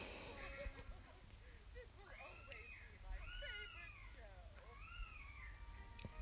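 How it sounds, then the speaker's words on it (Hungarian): A pair of house cats fight indoors, giving several drawn-out yowls and caterwauls in separate bursts over a low background rumble, with no talking. "Bocsi, a macskáim éppen kinyírják egymást."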